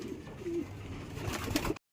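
A racing pigeon coos softly a few times nearby against faint background noise.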